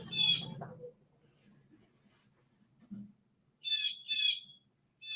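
A bird calls nearby in a few bright, chirpy bursts, one at the start and a quick pair near the end, separated by near silence with a faint low murmur.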